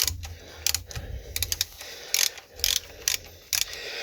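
Socket ratchet clicking in quick bursts while working on a 1971 Continental Mark III parked for over 40 years, with short rapid pawl clatters separated by pauses, close and fairly loud with no voices.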